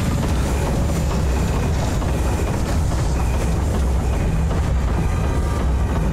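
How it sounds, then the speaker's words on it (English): A train rolls past in the video game Alice: Madness Returns, heard as a steady, dense rumble with rattling wagon noise that stays loud and continuous throughout, with no talking. "That's a creepy-ass train."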